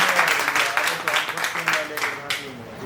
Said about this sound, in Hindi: एक बार ताली बजाओ सर के लिए